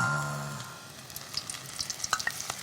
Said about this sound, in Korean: 우리가 보통 채소는 150도에 튀기는 게 가장 좋거든요